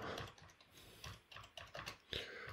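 Fingers type steadily on a computer keyboard: a close, quick run of light plastic key clicks with uneven rhythm and a few louder taps, with no voices.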